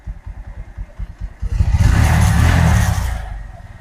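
A motorcycle on a used bike dealer's lot, idling with a rapid pulsing thump and then revved into a loud sustained roar before easing back, close by.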